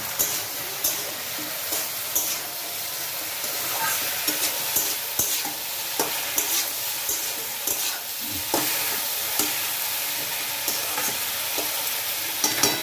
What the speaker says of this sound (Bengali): তারপরে কড়াই একবার এটাকে ভালো করে নেড়ে নিল।